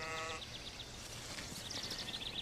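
Sheep bleat in short repeated calls on a rural road, a clear bleat at the start and a cluster of fainter ones later over steady low background rumble, with no talking.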